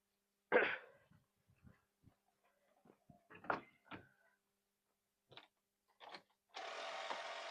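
A portable tyre air compressor, powered from a vehicle socket, starts near the end with a steady, buzzing drone, after sparse knocks and clicks in a quiet space.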